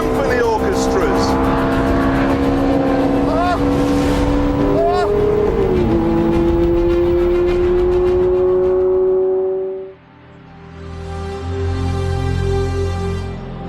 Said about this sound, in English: listen to this noise. Those exhausts are only waste disposal units, but I've heard less tuneful symphony orchestras.